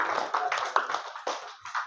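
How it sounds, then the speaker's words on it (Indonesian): A small classroom of high-school students gives a short, sparse round of hand claps for student groups, a handful of uneven slaps over about two seconds, fairly quiet and close. "Oke, tepuk tangan buat kelompok 4,"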